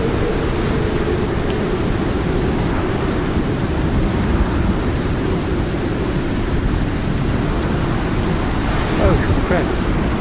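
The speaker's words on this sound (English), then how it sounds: "I didn't realize I was standing in a storm." A thunderstorm rolls through the mining game Stockpile, with steady heavy rain hissing over a broad, continuous rumble, loud and unbroken, and no voices.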